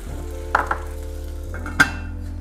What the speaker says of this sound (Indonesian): Kita masukin ada airnya dari sisa tadi.